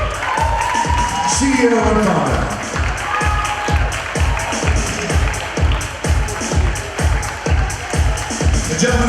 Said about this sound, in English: please give this gentleman a big round of applause